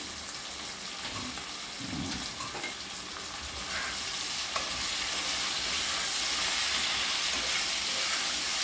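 Raw banana slices fry in a pan as a Konaseema-style plantain fry, a close, steady sizzle and hiss that swells louder partway through, with a few soft stirring clinks and no talk.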